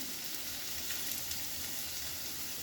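Potato and papaya pieces fry in a pan with a steady, even sizzle that holds at moderate loudness throughout the short stretch, with no talking.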